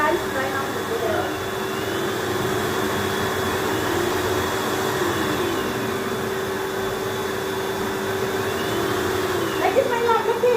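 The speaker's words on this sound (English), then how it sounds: "Guys, mag-dry kami ng buhok namin." Hair dryer blowing on hair after swimming, a loud continuous whooshing motor drone with a steady tone throughout, close up, with voices talking over it.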